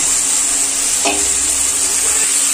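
Broccoli fries in a pan of cooked-down spice mixture, giving a loud, steady, close hiss with a brief clatter as the florets are dropped and stirred.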